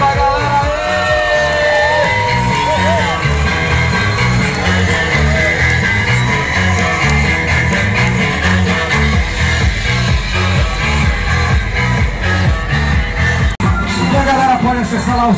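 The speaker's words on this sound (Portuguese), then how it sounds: "Os aplausos da galera." A dense crowd at a 15 km street running race in São Paulo roars with shouts, whoops and cheers, loud and sustained throughout, with a steady low rumble underneath and scattered voices rising above the noise.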